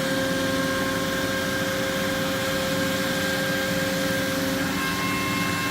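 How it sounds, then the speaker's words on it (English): A MultiCam 5x10 CNC router mills its spoil board table flat, giving a steady, loud machine whine with a constant tonal hum and broadband hiss that holds unchanged throughout, with no voices. "here we're showing the MultiCam CNC Router doing the table mill operation"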